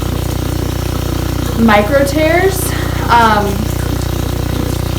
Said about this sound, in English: So we're going to start by turning on my water.